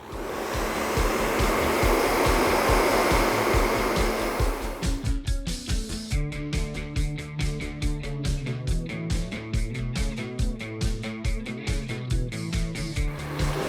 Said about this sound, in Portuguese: Então, olha só, fluxo do ar para frente e o pente com as cerdas ao contrário